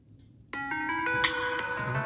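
A ringtone plays from the speaker of a Samsung Galaxy S10 Plus. It is a bright, melodic series of chime tones that starts abruptly after a short silence and then continues loud and steady, with no talking.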